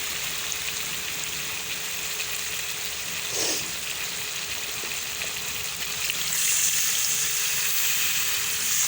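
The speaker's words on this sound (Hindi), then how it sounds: "अब डालते हैं हम शोरबे के लिए पानी।" Water is poured into a pot of softened garlic, onion and ginger to make a potato broth, producing a steady rushing, sizzling hiss with a brief louder splash partway through. No one speaks.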